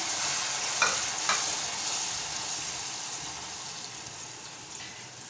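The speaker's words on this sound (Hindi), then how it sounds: "इसको कंटिन्यूस हिलाते जाना है स्ट्रेट करते जाना है" Caramel sauce with added cream and milk stirred continuously in a pan, a steady close bubbling sizzle with a few soft scrapes of the spoon, no talking.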